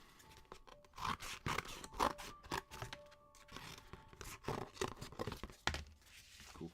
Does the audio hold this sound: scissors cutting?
yes